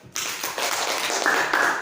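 Classmates clap for a student, a short scatter of hand claps that starts abruptly after a moment of quiet and continues at moderate loudness.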